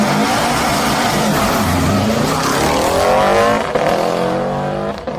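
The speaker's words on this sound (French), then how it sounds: "Ce bruit de boxer, la folie du rallye dans toute sa splendeur." A Subaru Legacy Turbo rally car's boxer engine revs hard and rises in pitch as it accelerates past, loud and close, with tire noise and a brief gear change before it fades.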